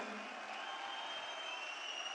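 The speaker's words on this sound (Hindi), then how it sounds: "जोरदार तालियां बजाएं एक बार, जोरदार तालियां।" Faint, sustained applause from an audience at a success celebration gathering, an even wash of clapping heard from a distance for about two seconds without voices.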